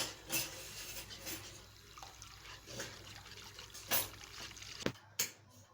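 Milk and egg yolk custard for a magnolia dessert stirred in a pot, soft swishing and wet scraping strokes in a slow, uneven rhythm, close and quiet with a sharper clink near the end.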